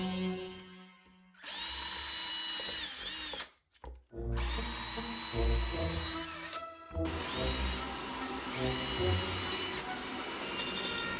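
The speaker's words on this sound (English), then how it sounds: "Now we have to drill some holes for the electronics." A power drill whines in several bursts with short pauses between, close and steady, as bits bore holes for electronics in a 1:6 scale diorama.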